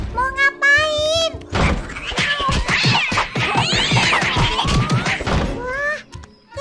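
A cartoon cat meows in an animated children's show, high wavering cries at the start and end, with bumps, thuds and lively chatter crowding the middle.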